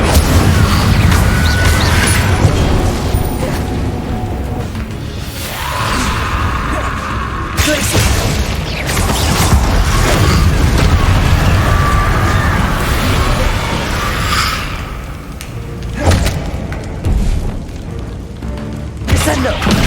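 Incendio fire spell in Hogwarts Legacy combat: repeated heavy booming bursts and whooshing flame blasts with crashes and mechanical clatter, loud and dense over about twenty seconds, with voices shouting over the action.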